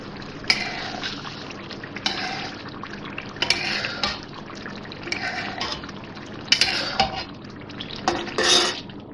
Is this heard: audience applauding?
no